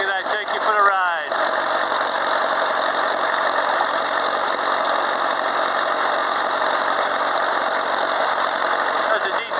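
A 1940 Farmall A tractor engine runs steadily and loudly up close, a continuous rough drone with knocking texture holding throughout the ride.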